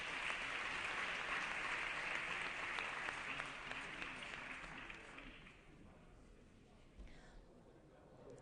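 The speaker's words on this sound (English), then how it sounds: "a round of applause" Applause on the California State Assembly floor, a dense burst of clapping from many hands that gradually thins out and fades over several seconds, heard from a distance.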